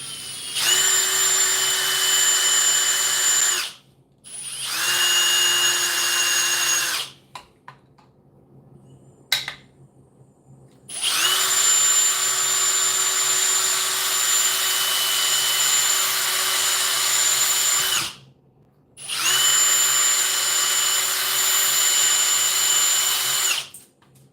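Power drill hollowing out the middle of a deer antler with a worn bit, running in several long loud whining bursts separated by short pauses, with faint handling noise between runs.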